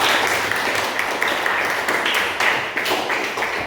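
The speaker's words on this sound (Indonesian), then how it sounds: "Tepuk tangan dong, semuanya semangat dong." Students in a classroom applaud together, a steady dense patter of many hands clapping at moderate loudness throughout, with no voices standing out.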